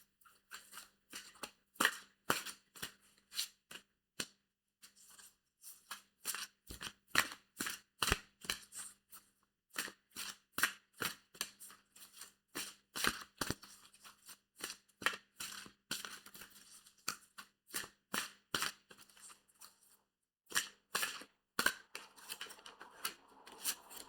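Repeated crisp riffle-and-snap bursts of a deck of oracle cards being shuffled, close and quiet, in a steady irregular rhythm throughout with brief pauses between runs.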